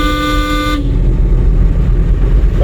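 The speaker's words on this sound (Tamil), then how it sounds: "ஹார்ன் அடிங்க." A driving-school car sounds one loud, steady horn blast lasting under a second, then cuts off, leaving road and engine rumble underneath.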